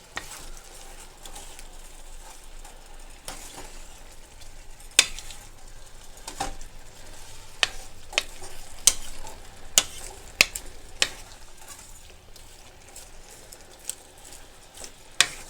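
Sprouts stir-frying in liquid in a pan, a quiet continuous sizzle broken by scattered clicks and scrapes of a utensil stirring, close by, with no voices.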